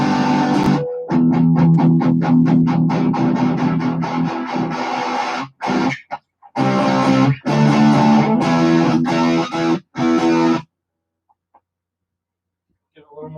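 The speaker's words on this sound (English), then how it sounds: "the distortion side." Loud, heavily distorted electric guitar through the distortion side of a D&M Drive pedal, playing chords in bursts, with several abrupt stops and restarts, then a short quiet tail.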